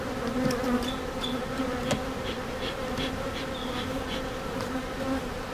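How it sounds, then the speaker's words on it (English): Honeybees buzz steadily around an open hive, a dense continuous hum with individual bees whining past at close range, and no voices. "Despite the bees initially greeting me, they're being a little more calm."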